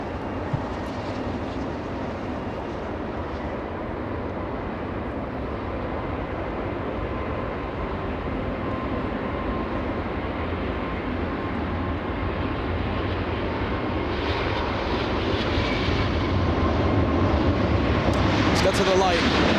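Airliner taking off at LAX, a broad steady jet roar that holds loud throughout and swells slightly toward the end, with people talking over it.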